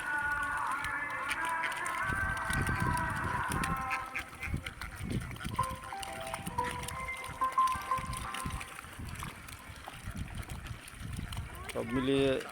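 A large duck farm holding about five thousand ducks, with a quacking flock heard behind a voice, alongside faint water and outdoor noise.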